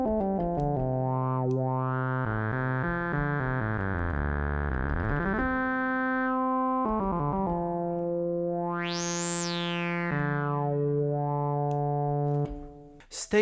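Analog modular synthesizer with a resonant filter producing a nasal, vowel-like tone, its pitch sliding up and down before a sharp high sweep, a sustained solo note heard alone.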